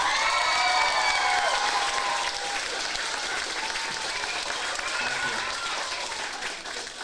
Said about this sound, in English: Can I hear one more round of applause, please?